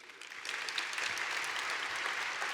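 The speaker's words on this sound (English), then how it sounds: "So big round of applause." An audience applauds a speaker at a lightning talk session. The clapping is moderately faint and grows after a quiet start into a dense, even patter that carries on to the end.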